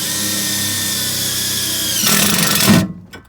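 Power drill driving a self-tapping screw into a grounding eyelet during a GPS tracker install on a 2019 Nissan NV200, a loud steady whir that rises and strains as the screw seats, then stops abruptly.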